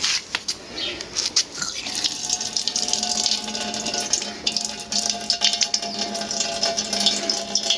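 A kitchen tap runs slowly, giving a thin continuous trickle of water with faint clicks and splashes, close by with no talking.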